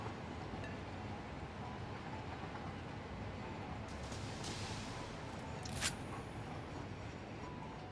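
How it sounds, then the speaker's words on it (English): A train rolls past in Satisfactory as a steady, faint rumble with a brief metallic clink near the end, with no voices. "Let that train go on by."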